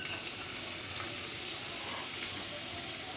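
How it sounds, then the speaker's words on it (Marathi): Onion and grated coconut fry in hot oil in a wok, making a dense, continuous sizzle that holds steady close by with no talk over it. "आता यामध्ये कांदा आणि खोबरं भाजून घ्यायचं आहे."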